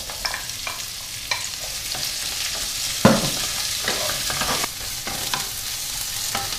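Sausage slices and onions fry in oil in a pan for rougail saucisses, a steady loud sizzle with scraping stirring strokes and one sharper clatter midway, close up and without speech.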